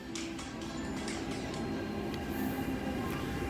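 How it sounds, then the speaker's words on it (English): An A-Train at Sunny Bay Station in Hong Kong hums with a steady motor drone and rolling rumble, with clattering door and car noises heard close up inside the train. "you can hear the A-Train's motors and also how banging the doors are"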